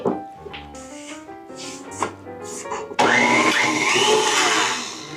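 An electric mixer whirs loudly for the last couple of seconds as it beats egg with vanilla and almond extract for cookie dough, after a few soft clinks and taps of ingredients going into the bowl.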